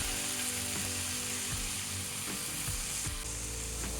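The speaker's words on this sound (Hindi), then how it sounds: "अब इसमें जो हमारी लोबिया है उसको मैंने काट लिया है और उसको डालेंगे" Chopped cowpeas (lobia) drop into spices sizzling in a pan, a dense steady crackle with quick scraping, clicking pulses layered through it.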